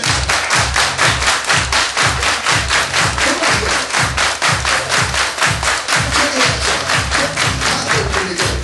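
A crowd claps hands in steady unison during a line dance, about three to four loud claps per second that keep a regular rhythm for the whole stretch, with the song playing faintly underneath.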